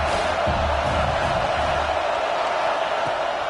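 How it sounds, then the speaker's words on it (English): A home crowd roars at a football game, a loud, continuous wash of cheering and shouts from a packed stadium, sustained throughout with no clear talk. "this crowd really affecting the football game."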